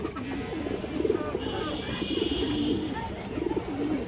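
Black Muslodom pigeons, an old-line feather-footed breed, coo in low repeated pulses. Someone talks over them steadily, with a thin high tone running through the middle.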